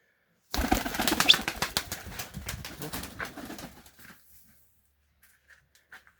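A burst of rapid wing flapping as a pigeon takes off nearby, loud at first then fading over a few seconds into quiet with faint small sounds.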